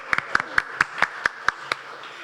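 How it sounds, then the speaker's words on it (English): About eight sharp, evenly spaced hand claps at a cooking demonstration of a sausage and chorizo casserole, a small, sparse round of applause that fades out near the end. "Can we have a round of applause?"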